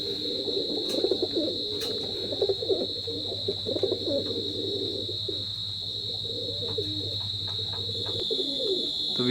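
A pair of teddy pigeons coo in repeated low, throaty bursts close by, over a constant electrical hum and a steady high-pitched whine.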